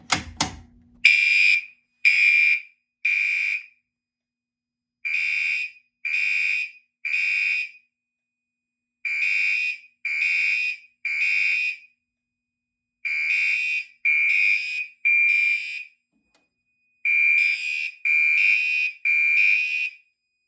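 A fire alarm triggered by an ADT560S pull station sounds in a steady pattern of three loud electronic beeps followed by a pause, repeating again and again, after a brief clatter at the start.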